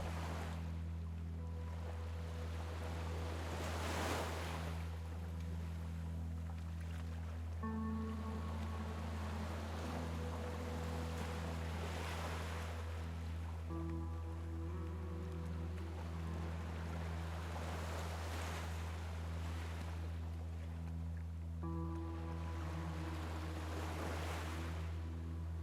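Sea waves wash in slow surges roughly every five seconds, each swell rising and fading over a steady low hum, with no voices.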